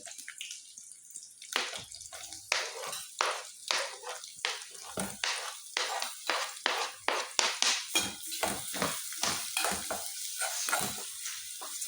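Onion, green chillies and tomato fry in a pan as a base for a chicken dish, heard as loud, crackling sizzle in repeated bursts as a utensil stirs and scrapes through them in a quick, steady rhythm.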